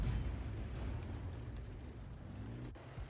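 An M44 self-propelled artillery shot detonates on a tank destroyer in World of Tanks, a dull, rumbling low boom that rolls on steadily under the ongoing battle noise without a sharp attack.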